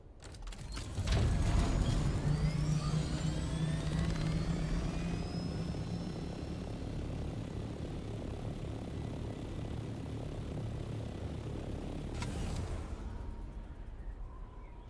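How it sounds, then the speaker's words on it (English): Rotor drone of a carrier helicopter flying in the video game Dune Awakening, a loud steady whir that swells in early and holds at an even level throughout, with a brief mechanical burst near the end. "I'll go get it now to use the probably bigger helicopter"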